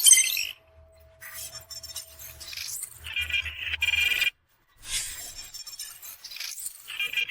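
A telephone rings in bursts of bright, high electronic tones with short gaps between them, clear and fairly close, with no talking.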